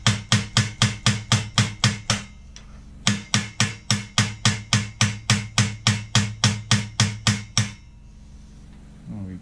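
Steady, evenly spaced hammer blows ring out close by while assembling a Black & Decker Workmate 536, two long runs of sharp metallic strikes separated by a short pause.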